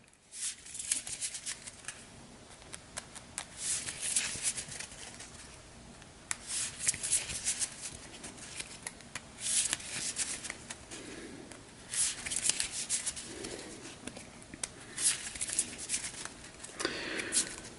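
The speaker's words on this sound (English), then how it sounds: "So we'll give these a shuffle back in." Playing cards being shuffled back into a deck during a tabletop card game campaign session, a series of soft papery riffles and rustles recurring in bursts, close and moderately quiet.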